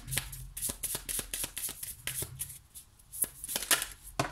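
Tarot cards shuffled and drawn by hand in a quiet room, giving a run of brisk riffling bursts and soft slaps, close and fairly faint, with no talk.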